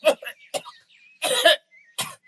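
Several harsh coughs in bursts with short gaps, close by, one longer fit in the middle and a final cough at the end.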